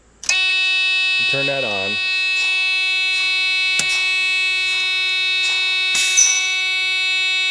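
A semi truck's key-on warning buzzer sounds as a loud, continuous electronic tone that starts abruptly and holds steady, with someone speaking briefly over it and a few clicks and knocks.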